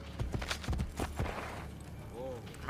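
A horse gallops in Assassin's Creed Brotherhood, its hooves striking in quick, heavy clip-clop beats up close, with a voice talking over the steady thudding rhythm.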